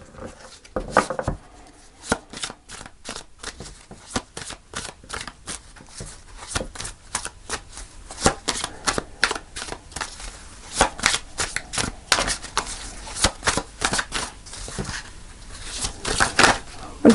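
Rapid, irregular riffling and slapping of cards being shuffled, with bursts of crisp clicks growing busier toward the end, close by and without talk.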